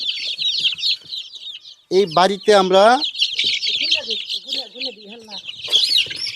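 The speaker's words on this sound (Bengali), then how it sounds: "এই যে মুরগির বাচ্চাগুলো নিয়ে আসলাম এখন বাড়িতে নিয়ে আসলাম" A large batch of newly bought chicken chicks, brought home for brooding, cheeps in a dense, continuous high chorus close by. A person talks over the chirping partway through.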